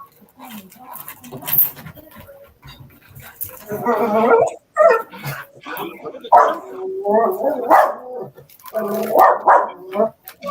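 Dogs bark and yip in bursts, some close and loud, with whimpering between and voices talking over the commotion.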